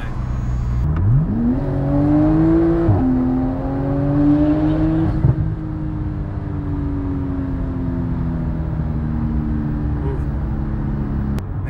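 A stage 4 Porsche Turbo S with 68mm turbos and methanol injection on 91 pump gas accelerates hard, its engine note climbing loudly through a couple of gear changes before settling into a sustained roaring drone.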